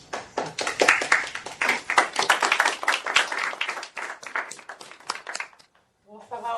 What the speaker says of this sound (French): au moins les applaudissements ne sont pas décalés